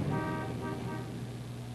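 Car horns honk in steady sustained tones over dense, continuous highway traffic, a loud jam of blaring horns with no voices.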